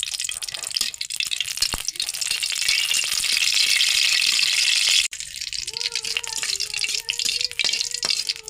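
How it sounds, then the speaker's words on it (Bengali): Dried chili sizzles and crackles steadily in oil at close range, then cuts to quieter frying with a faint tonal whine; no talking. "শুকনো মরিচটা আমরা ভেজে নেব"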